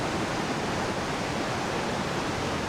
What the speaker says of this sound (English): Ramsey Falls is a 30-foot waterfall in Ramsey Park in Redwood Falls, Minnesota.